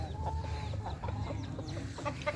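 Chickens clucking and calling close by, several short overlapping clucks in a soft continuous farmyard chatter, with no one speaking.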